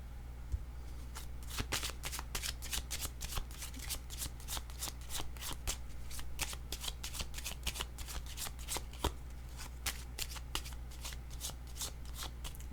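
A deck of cards riffles and snaps through repeated shuffles, a dense run of sharp flicking bursts at close range over a faint steady low hum, quiet throughout with no voices.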